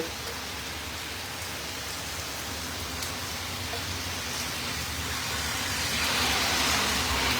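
Heavy New York rain drums steadily on the street and other surfaces, a thick continuous wash that grows louder toward the end, with no one speaking.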